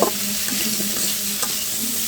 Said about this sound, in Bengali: এখন আমি কিছুটা কাঁচামরিচ দিয়ে এটার সাথে পেঁয়াজ দিয়ে ভেজে নেব